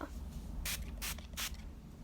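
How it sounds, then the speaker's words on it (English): Milani Make It Last setting spray fires three short, sharp pumped bursts of mist in close succession, loud and near over a quiet room hum. "Now I'm gonna take the Milani Make It Last setting spray."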